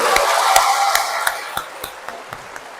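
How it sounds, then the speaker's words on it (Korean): A congregation in a Catholic parish church in Incheon claps together in a steady rhythm. The sharp, evenly spaced claps grow softer as they go on over a fading wash of applause. "참여하신 모든 분들 박수!"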